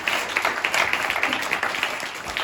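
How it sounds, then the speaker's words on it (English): Audience applause for Louie Qu at a USANA Asia Pacific training session, a steady wash of many hands clapping, moderately loud and continuous throughout. "let's give him another round of applause"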